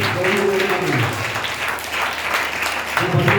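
Congregation clapping and applauding during a Sunday church service, a steady wash of dense applause that continues under a voice speaking over it.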